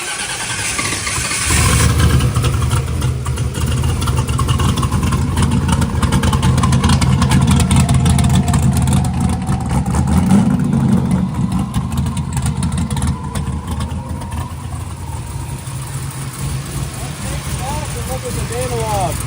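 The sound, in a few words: No Prep 4x4 NASCAR truck engine starting and running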